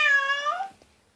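A single short cat meow asking for food, clear and close, rising slightly at the end before fading into quiet.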